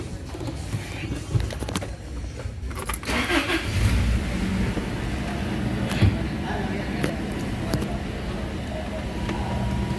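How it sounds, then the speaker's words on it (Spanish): Toyota 4Runner engine cranking and firing up, then settling into a steady running idle, close and moderately loud, with a few clicks and knocks over the hum and no talking. "Vamos a encender el motor."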